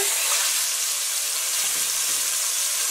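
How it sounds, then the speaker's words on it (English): A beef chuck shoulder roast sears in hot oil, giving a continuous close, loud sizzle of dense hissing crackle with no talking. "now that it's been sizzling for about 4 minutes"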